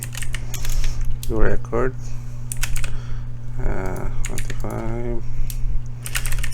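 Someone types on a computer keyboard into an Excel form, giving a steady patter of close key clicks under a constant low hum while a person talks over it.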